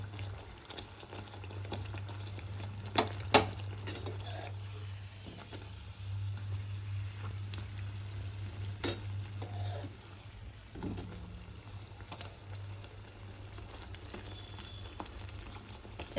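Kachori fry in hot oil with a soft, continuous sizzle and bubbling, punctuated by occasional sharp clinks and pops, over a low steady hum.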